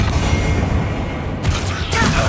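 Hogwarts Legacy's Confringo fire spell bursts in a dense, noisy game battle, with a couple of sharp explosive cracks near the end over constant rumbling effects.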